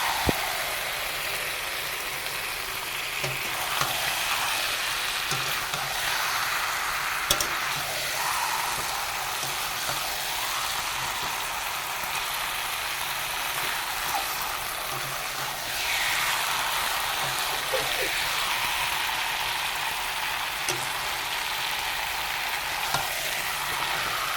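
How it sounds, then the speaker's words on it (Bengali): Chicken pieces frying in spices in a pan while being stirred, a continuous loud sizzle with occasional faint scraping, steady and close, with no speech. "এবারে নাড়তে থাকবো যাতে মশলাগুলো গায়ে লেগে যায়"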